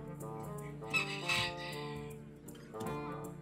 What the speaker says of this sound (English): My chicken is very active today.